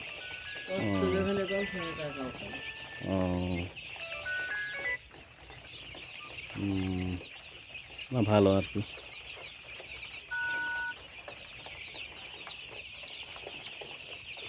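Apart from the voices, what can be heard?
chickens clucking on a poultry farm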